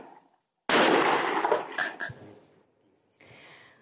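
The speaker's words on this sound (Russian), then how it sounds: "Два раза, как было видно, они по ним выстрелили." Two sharp gunshots fired by teenagers at police in Strugi Krasnye, Pskov region, Russia, crack out close and loud in quick succession, followed by a fainter burst of noise.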